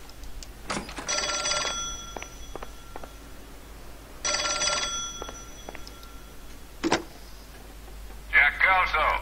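An old-fashioned telephone bell rings in the 1940s Los Angeles crime game L.A. Noire, two long metallic bursts separated by silence, with scattered clicks and a voice near the end.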